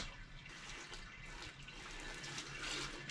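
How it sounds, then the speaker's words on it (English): Sparge water rinsing steadily down through a screen over an all-grain mash bed while brewing a mango IPA, a continuous soft splashing trickle that holds the same level throughout. "It hits the screen and then it slowly rinses down through it."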